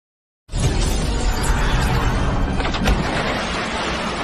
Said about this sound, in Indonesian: Seketika itu juga, ledakan pun terjadi